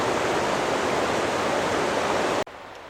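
Bear Creek in the San Gabriel Mountains flows with a steady, dense rushing hiss of water over rocks, loud and close, cutting off abruptly near the end to a much quieter background, with no voices present.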